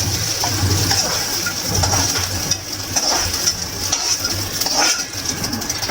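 Soybean chunks fry in oil in a kadai, giving a loud, steady sizzle and crackle close by, with occasional scrapes and clinks of a utensil against the pan.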